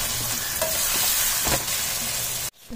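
Chopped raw mango tossed and stirred in a hot frying pan for mango thokku, giving a loud, continuous sizzle with scraping strokes, cut off abruptly near the end.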